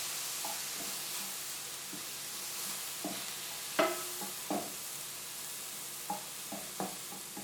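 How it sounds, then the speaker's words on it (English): Frozen peppers and onions sautéing in a pan, a steady sizzle with the occasional scrape and clack of a spatula stirring, moderately close, and no one talking. "add in some frozen peppers and onions. And just let these saute for a minute"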